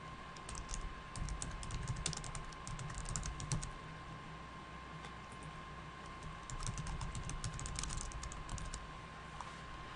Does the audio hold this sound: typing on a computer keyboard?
yes